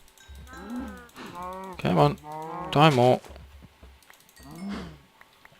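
Several cows in Minecraft, in the Feed The Beast modpack, low harmonic moos rising and falling, a few calls in a row loud and close, with someone talking over them.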